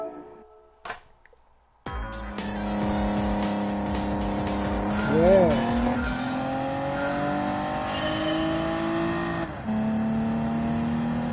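A racing car engine in a video game revs and holds a steady high drone, shifting gears with pitch jumps, after a brief quiet start; one short spoken word.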